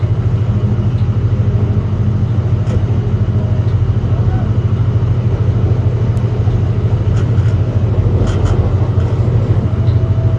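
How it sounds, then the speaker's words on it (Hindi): A vehicle engine runs while driving on the road from Faisalabad to Khanewal, giving a loud, steady, continuous rumble and drone that fills the whole stretch without pause. "इंजन की जिगिंग की साउंड आपको सुनाई दे रही होगी।"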